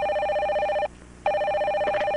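A telephone bell rings loudly in two bursts separated by a short pause, steady and bright, with no one talking over it.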